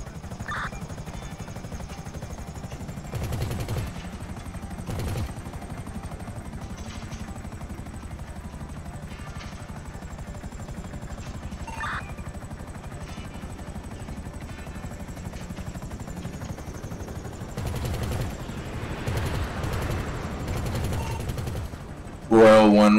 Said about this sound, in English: we have an aircraft that is just shooting at people